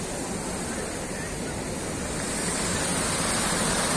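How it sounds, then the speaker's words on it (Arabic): Waterfall at Ain Asserdoun spring in Beni Mellal, a steady broadband rush of falling water that holds evenly and grows slightly louder toward the end, with no voices over it. "هنا ننتقل من شلال إلى آخر، الشلال الكبير في عين فردوس"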